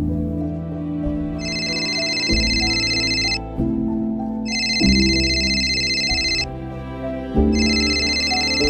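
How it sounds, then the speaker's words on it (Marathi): A telephone rings in repeated electronic bursts over a steady melodic tone, three loud ringing cycles sounding close and uninterrupted by speech. "मला वाटतं त्यांचाच फोन असावा, जरा बघ ना."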